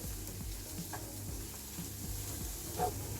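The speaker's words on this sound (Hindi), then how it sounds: "अब इसमें हम मशरूम डाल देंगे। अच्छे से मिक्स करेंगे।" Mushrooms get stirred into a frying onion-tomato masala, a continuous low sizzle with soft rhythmic scraping of a spoon against the pan, no voices.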